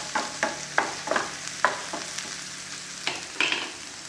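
Green chillies frying in a pan with hot oil, a soft steady sizzle punctuated by about nine sharp scraping stirs of a spoon at a quick, uneven rhythm.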